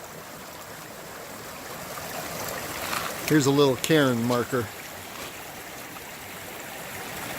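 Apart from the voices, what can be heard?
water flowing in a canyon creek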